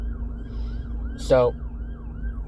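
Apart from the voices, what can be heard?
ambulance or fire truck siren passing on road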